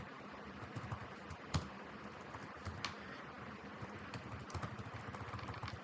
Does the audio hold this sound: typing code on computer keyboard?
yes